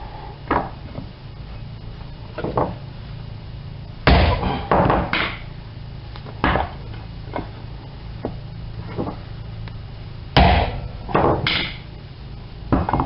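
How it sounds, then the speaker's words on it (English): A hammer strikes repeatedly to drive a seal into a TH400 transmission tailshaft housing, giving sharp, close metallic thuds in irregular bursts with quiet pauses between them. "and then give it kind of a sharp blow"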